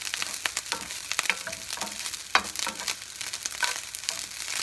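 Fried rice browning in a pan, not a wok, with a continuous close sizzle full of dense crackling pops and occasional louder spatters, with no talking.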